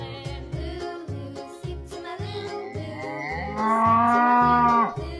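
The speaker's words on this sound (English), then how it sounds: "This is a cow." A cow moos in long, low drawn-out calls close by, ending in a louder, higher bellow, set against a bouncy musical backing.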